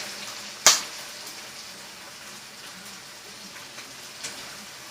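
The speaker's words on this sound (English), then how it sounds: "Let's take the lid off our chicken. Y'all can hear it sizzling." A soft, steady sizzle of chicken in a pan, faint and close, with a sharp click near the start and occasional small pops.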